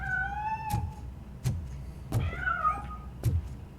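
Cartoonish cat meowing in a video game, several separate meows with rising and falling pitch, close and clear with no talking over them.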